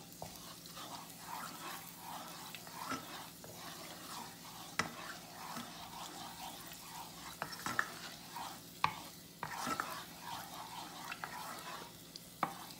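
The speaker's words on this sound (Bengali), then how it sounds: "ক্যারামেল তৈরি করব। এটাকে আস্তে আস্তে নাড়তে হবে।" Caramel being slowly stirred in a pan, with soft repeated scraping and a low, faint sizzle running throughout, and occasional small clicks of the utensil.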